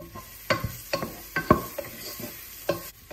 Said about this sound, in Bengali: প্রথমে একটি হাঁড়িতে দিয়ে দিচ্ছি সামান্য অলিভ অয়েল, কুচি করা পেঁয়াজ আর পিঙ্ক সল্ট।